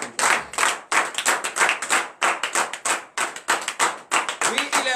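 A worship congregation at a morning prayer service in Benin claps in bursts of rhythmic hand claps, loud and close, with voices calling out acclamations over and between the claps.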